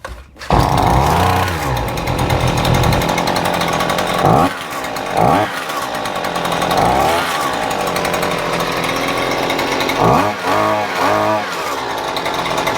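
A Husqvarna 130C gas trimmer engine runs loud and close, a continuous buzzing two-stroke drone that surges through several revving swells, with no voices over it.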